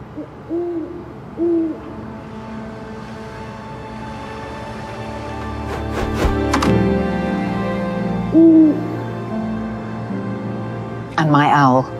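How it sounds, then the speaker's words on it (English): Several short tonal owl hoots sound in a quiet outdoor setting, spaced apart across the stretch, with a brief burst of other noise in the middle and a faint voice near the end. "And my owl."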